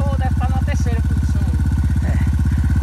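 An enduro motorcycle engine at a hard enduro race in São Sebastião, Rio Grande do Norte, idling with a close, steady rapid thumping pulse while people talk nearby.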